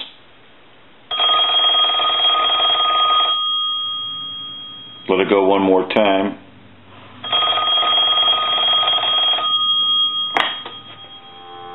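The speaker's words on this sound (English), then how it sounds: "let's go ahead and ring the telephone" GTE Starlite telephone's bell rings in two long metallic bursts separated by a pause, loud and close, with someone speaking briefly between the rings.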